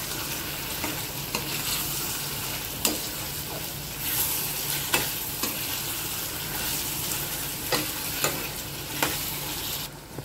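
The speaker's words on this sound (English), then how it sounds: "I'm going to fry the prawns first nice in this." Prawns sizzling in hot oil in a pan while being stirred, a continuous loud frying hiss with periodic scraping strokes of the utensil throughout, no voices.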